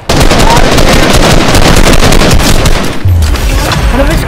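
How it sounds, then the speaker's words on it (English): Gunshots in a shooter video game ring out as a loud, dense barrage of rapid cracks and booms, with bursts overlapping almost continuously across the clip and a brief dip near the end before firing resumes. "Guys, I hear shots."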